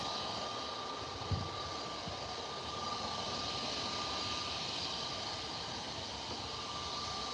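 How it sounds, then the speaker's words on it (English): An EasyJet Airbus A320 landing at Manchester Airport makes a steady, distant jet roar with a faint thin whine, continuous and even throughout with no voices. "And then this A320, normally what they fly, isn't it?"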